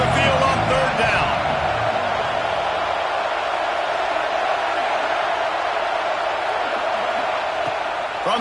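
A home crowd at a football game roars in a loud, sustained wash of cheering as the defense faces third down, and an announcer talks over the start.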